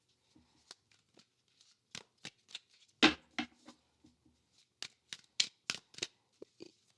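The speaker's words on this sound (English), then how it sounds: "So let's see how it overhand shuffles." Tarot card deck being overhand shuffled, a run of quiet, crisp papery flicks and slaps in irregular bursts, close and isolated against silence.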